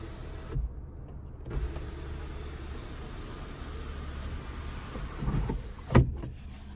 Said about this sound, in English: And then we have a power sunroof. We can one-touch slide or tilt.